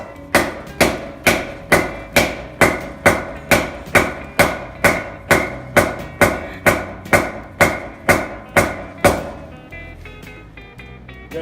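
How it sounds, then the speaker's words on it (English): A hammer strikes a socket seated over a locking lug nut on a car wheel, about twenty sharp, evenly spaced metallic whacks in a steady rhythm, loud and close, then a short ringing tail. "let me give it a few whacks. Make sure we get on there all the way."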